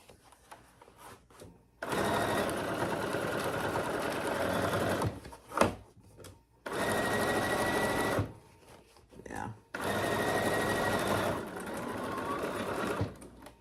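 A sewing machine stitches a crossbody wallet at a 3.2 stitch length, running in three long steady bursts of several seconds each, with short pauses and handling noises between them.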